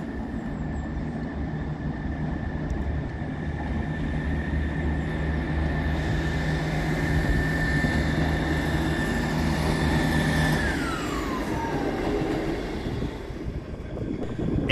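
A ScotRail class 158 diesel unit at Edinburgh Waverley station hums steadily under wind noise, and a high tone slides downward as it pulls away, with no talking.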